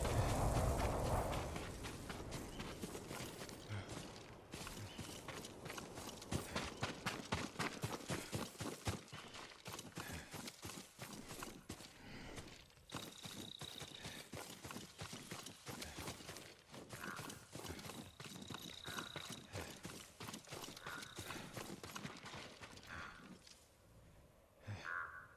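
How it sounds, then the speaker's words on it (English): Horse hooves clip-clop at a steady walking rhythm in the Ghost of Tsushima video game, near and distinct against a quiet background, with a soft whinny or snort and faint outdoor ambience. "Yuriko's horse. She can't be far."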